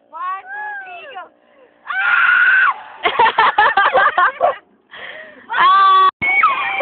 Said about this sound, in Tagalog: Okay, isigaw natin lahat tayo.